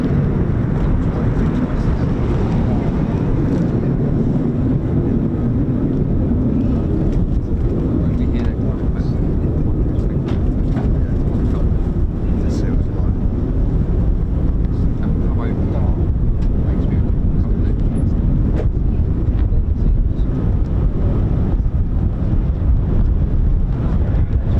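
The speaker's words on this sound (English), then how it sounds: "It's extremely windy. We're looking at 30 miles per hour winds currently at the moment" Strong 30 mph wind buffets the microphone at the RAF Lakenheath airfield, a constant loud roaring rumble that fills the whole stretch, with someone talking through it.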